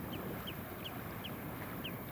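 Wading birds call on an Essex coastal marsh, short high chirps repeating about every third of a second over a steady rushing background of wind and distant ambience.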